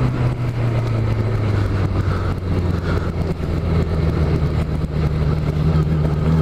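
A 1989 Yamaha FZR 1000 motorcycle engine drones steadily while riding, a constant low rumble with slight shifts in pitch and wind noise over it.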